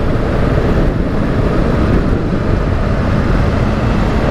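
Wind roars steadily into the microphone while riding along a road, a loud, dense, continuous rush with no voices heard.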